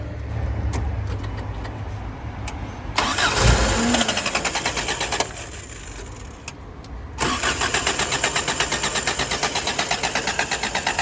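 An old Toyota Celica with a possible fuel problem cranks over repeatedly without catching: a rapid rhythmic starter grind in two long bursts, with a brief sputter and clicks between, close and loud.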